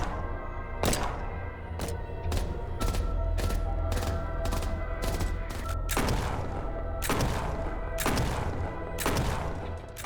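Shotgun blasts and gunfire in the Samurai Unicorn game demo: a steady series of sharp, punchy shots at uneven intervals, some in quick pairs, loud and close over a constant low game background.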